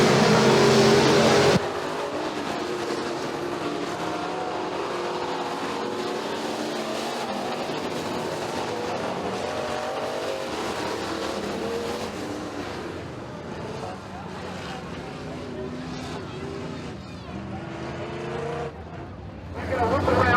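Pure stock race cars running the final lap on the dirt oval at McKean County Raceway, a continuous loud engine roar and crowd noise with a commentator talking over it throughout.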